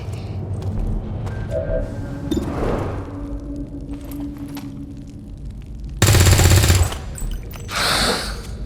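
Gunfire in the XCOM 2 video game, with scattered thumps and shots across the scene and a loud, rapid burst of automatic fire near the end, followed by another shorter burst over a low rumbling background.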